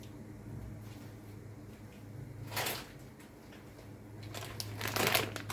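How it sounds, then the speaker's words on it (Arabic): Dry penne pasta tumbles from a bag into a pot of boiling water seasoned with a little oil and salt, making a couple of short rattling, crinkling bursts against a low steady hum. "هنزل عليها بكيس مكرونه اقلام"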